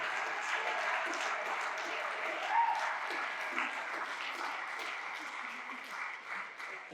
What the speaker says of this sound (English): Please give a big, warm round of applause to Dr. Maha Hilal performing some comedy for you all.